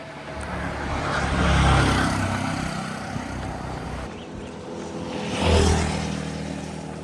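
Tuk-tuks, trucks and cars pass on the single road around a lake in Guatemala, with a broad engine roar swelling and fading twice as vehicles go by close, steady traffic hum underneath and no talking.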